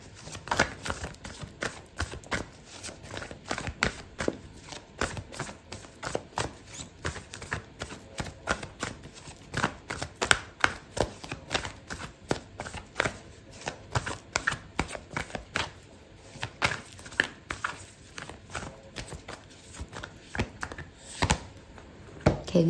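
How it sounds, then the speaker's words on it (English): Oracle cards being shuffled and pulled during a tarot reading, a long run of close, crisp riffles, slaps and flicks in irregular bursts with no talking. "I'm going to pull out an oracle card for you"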